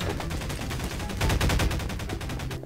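Rapid bursts of automatic gunfire from the video game Garry's Mod, loud and close, with dense overlapping shots through the whole stretch and a brief lull near the end.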